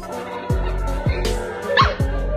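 A dog yelps in pain after a crab clamps onto its cheek, giving a short sharp cry over steady background music with a few low thumps.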